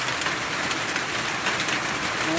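Heavy rain pours down in a dense, constant hiss, drumming loudly on nearby surfaces without a break.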